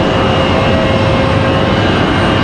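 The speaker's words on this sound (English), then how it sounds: "Looks like we're going to have a Breeze Airways Moxie 745. This Airbus A220-300 coming in from Columbus, Ohio." Loud steady roar of a Breeze Airways Airbus A220-300 jet airliner on final approach into Raleigh-Durham airport, a continuous broadband engine rumble without a break.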